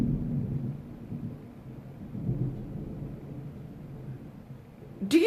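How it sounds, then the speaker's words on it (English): Thunder rumbles low and steady at a distance, a dull rolling sound that swells and fades over several seconds, ending in a brief louder crackle. "Do you hear that thunder?"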